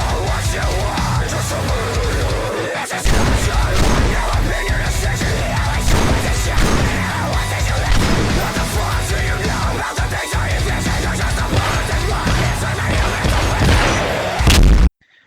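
Booming gunshots from the Call of Duty Black Ops video game, a dense, loud barrage of bass-heavy shots and explosions rattling almost continuously, with brief gaps before cutting off abruptly at the end.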